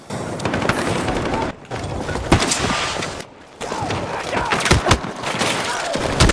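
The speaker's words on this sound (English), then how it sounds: "Yeah, shotgun." Shotgun blasts in a video game, loud broadband bursts repeating close together over dense game noise, with a couple of brief gaps between volleys.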